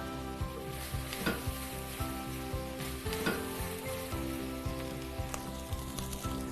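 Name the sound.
vegetables and prawn shells cooking in a soup pot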